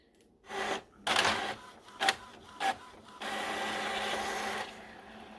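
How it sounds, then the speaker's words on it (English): Epson ET-2760 inkjet printer printing a page: a few short mechanical whirs and clunks, then a sustained loud feed-and-print buzz that stops abruptly, close up with no talking. "that printed like super fast. Like I felt like it just like shot right through."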